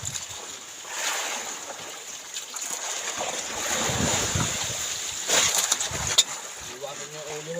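Rough sea waves wash and slosh around a boat, with continuous wind buffeting the microphone and occasional splashes, while people talk quietly in the background.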